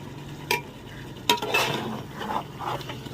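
Mutton cooking in a pot for biryani and being stirred by hand: a spoon clinks and scrapes against the pot a few times over a soft, steady sizzle, close and fairly quiet, with no talking.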